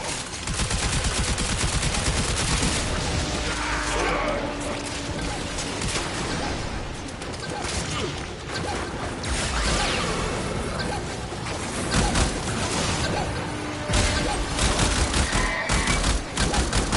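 Rapid automatic weapon fire in the video game Warframe rattles on almost without pause, loud and dense, layered over game effects with speech mixed in.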